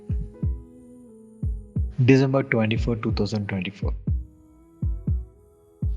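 A heartbeat sound effect plays as steady, deep double thumps repeating at an even pace, with a voice briefly speaking over the beats partway through.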